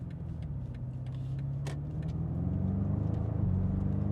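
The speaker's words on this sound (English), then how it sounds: "we'll show you how the car sounds from the inside" Interior of a BMW G90 M5 with a titanium midpipe and OPF delete, cruising with the exhaust valves open: a steady low engine and exhaust drone fills the cabin, rising slightly toward the end, with no talk.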